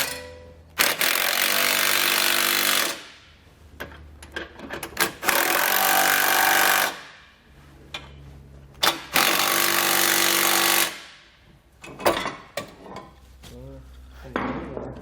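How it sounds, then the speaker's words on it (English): A 15 mm socket on a power tool tightens the lower bolts of a Blue Ox base plate kit on a 2020 Buick Envision. Several loud, sustained bursts of around two seconds each come close, separated by short rattling clatters. "Then we can use our 15mm socket to tighten down our lower bolts."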